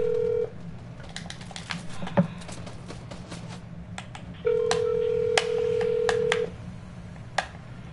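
Phone dialing tones during a call: a short tone, then a quick run of keypad beeps, a longer steady tone and a few more scattered beeps, heard clearly over quiet room background.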